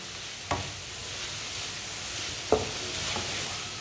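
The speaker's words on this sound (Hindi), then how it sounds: "इसे चम्मच चलाते हुए पकाना ताकि प्याज हमारे पूरी तरह पक जाए, कोई भी प्याज कच्चा ना रहे।" Onions fry in a pan with a continuous soft sizzle, while a spoon scrapes the pan in two brief clear strokes, close and at moderate loudness with no talking.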